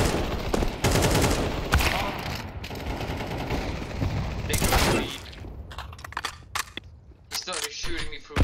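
Gunfire in Counter-Strike 2 shot through walls, rapid bursts of automatic fire in the first half giving way to sparse single shots and mechanical clicks, with a voice talking over it.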